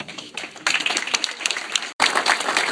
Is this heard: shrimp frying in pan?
no